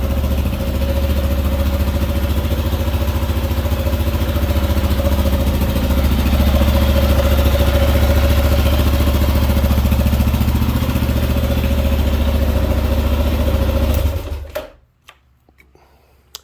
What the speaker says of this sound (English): You can hear the thumper in the motor.